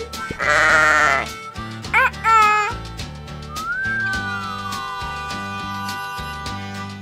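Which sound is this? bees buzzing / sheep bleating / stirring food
sheep bleating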